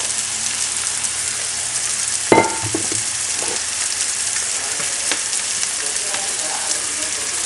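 Sprats (hal masso) frying in a pan with turmeric and spices, a constant close sizzle with a sharp burst of crackling and clatter as the fish go in, then steady frying.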